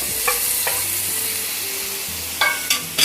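Roughly chopped tomato sizzles with spices in a pan for bread upma, a steady frying hiss broken by a few sharp spatula scrapes near the end.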